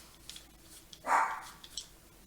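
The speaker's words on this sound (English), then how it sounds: "It's my dog. She's won't quit barking." A single dog bark rings out briefly in a quiet room, moderately close, with faint clicks and rustles around it.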